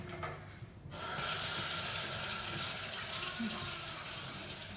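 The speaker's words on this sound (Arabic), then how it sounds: "عبي مي لو سمحتي بقلب الطنجرة" Tap water pours into a cooking pot as a steady, loud rushing flow that starts about a second in, after a short quieter lead-in.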